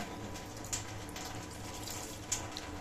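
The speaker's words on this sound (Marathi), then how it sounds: "आता हे धुतलेत चांगले, अजून पण धुते बघा" Rice being washed in water, a steady wash of running and sloshing water with a couple of small sharp clinks, close and continuous.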